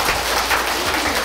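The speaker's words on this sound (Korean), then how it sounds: "박수 박수." A brief burst of steady clapping rises from a seated audience at a lecture, dense and fairly close for about a second.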